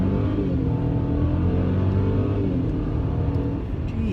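A turbocharged 2018 Mercedes C300 in sport mode pulls hard under acceleration, its engine a steady, loud, close drone with layered harmonics that holds for a few seconds before easing slightly near the end.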